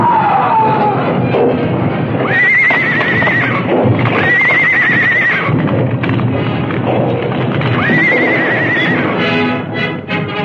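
Horses in a radio drama stage ride whinny and scream repeatedly over pounding hooves and thuds, loud and close, a frantic struggle for footing through the whole passage.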